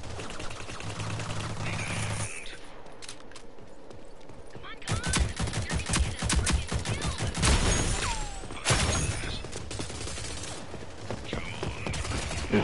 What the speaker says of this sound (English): This SMG is insane.